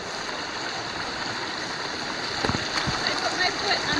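A creek flows in a steady broadband wash of running water along a hiking trail, close and continuous, with a few soft splashes or footfalls near the end and no clear talk.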